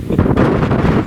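Strong wind buffets the microphone on a mountain trail near Mount Pikui, in a continuous, rumbling roar that fills the whole second with no pauses.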